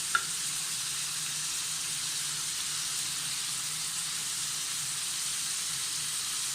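Mutton seekh kababs fry on a tawa over a medium-low flame, giving a steady, close, unbroken sizzle with one light tap at the start and no voices.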